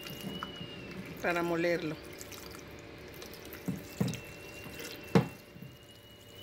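Water is added to a salsa before blending. The liquid splashes and drips in short bursts while a person speaks nearby.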